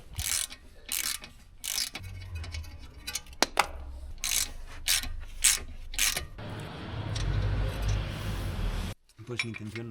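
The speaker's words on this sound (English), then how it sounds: "To do this, you must remove the two bolts that fix it to the knuckle." A ratchet clicks in short close bursts, loosening the two ball joint bolts on the steering knuckle of a Mini Cooper S R53, with pauses between strokes and a rougher, hissing stretch near the end.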